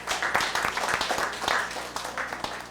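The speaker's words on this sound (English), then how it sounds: "Give yourselves a round of applause." Audience applause at a speech festival in Grenada, a steady crowd of clapping with sharp individual claps standing out, fairly close and sustained throughout.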